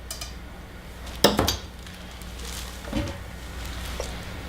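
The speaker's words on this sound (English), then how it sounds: "So what I'll be doing is going into this crock pot over here." A crock pot holding melted clay for sculpting a silicone elf doll is opened and handled, with a sharp lid clank followed by a few softer ceramic knocks and clinks, close and sparse against quiet room tone.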